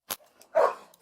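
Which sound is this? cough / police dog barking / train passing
police dog barking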